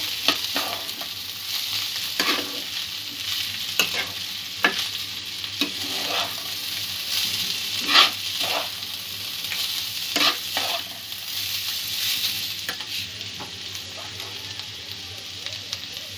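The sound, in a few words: stirring and mixing carrot pulao ingredients in a pan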